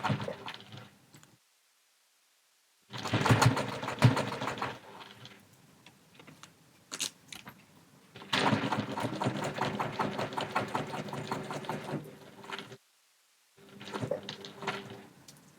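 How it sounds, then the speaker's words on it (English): A sewing machine stitches and reverse stitches in close bursts of rapid mechanical whirring and clicking, with short pauses and quiet gaps between runs. "I start inside, pull my stitches and reverse stitch immediately."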